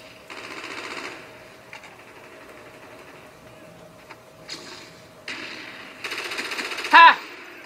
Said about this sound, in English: Let's use this AK.